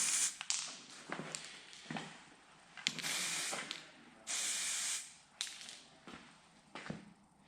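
Brembo brake calipers get their first coat of spray paint, with a run of short and longer aerosol hisses in separate bursts, close and fairly quiet, with small clicks between sprays.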